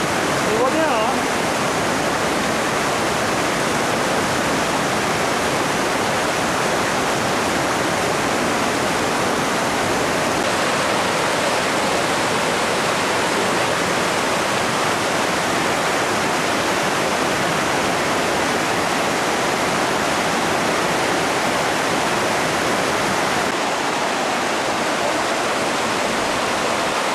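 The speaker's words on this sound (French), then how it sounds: "Les méandres du ruisseau." A meandering mountain stream near the Col de la Vanoise rushes without pause, a loud, dense, even wash of water that fills the whole stretch with no break.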